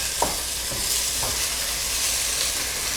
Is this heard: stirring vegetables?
yes